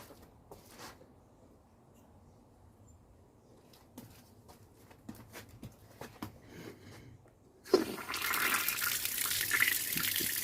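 Water from a turned-on tap rushes through a shower hose during a thermostatic shower mixer repair, a loud steady gush that starts abruptly after a few seconds of faint clicks and handling.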